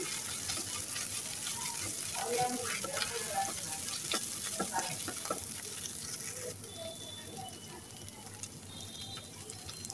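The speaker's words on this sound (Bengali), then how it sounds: "তো মশলাটাকে কিছুক্ষণ নেড়ে চেড়ে কষিয়ে নেব আমি" Garlic, ginger and cumin paste is stir-fried in a pan for an okra curry, a continuous close sizzle with occasional stirring scrapes, fading slightly toward the end, no talking.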